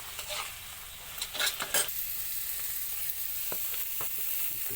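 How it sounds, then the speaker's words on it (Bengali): Kharkon leaves, wilted greens, stir-fried in a little oil, giving a steady soft sizzle with a few scraping stirs and light clinks near the start, alone and fairly quiet. "তেল দিয়ে নাড়াচাড়া করতে হবে।"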